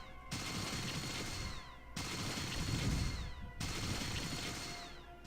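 Turret gunfire in Fallout 2, three sustained bursts of loud, dense automatic shots separated by brief gaps, with no voices over them.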